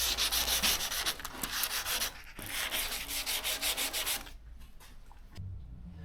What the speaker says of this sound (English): I've got some 240 on this block, and I'm just going to go over the top and take any high bits away.